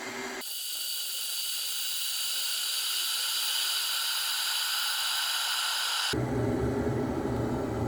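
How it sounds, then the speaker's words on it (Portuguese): Water boils in a pot on an Agratto FMA-02 single-burner electric stove, giving a steady close hiss that shifts near the end into a rougher, louder bubbling rumble. "a água já está borbulhando"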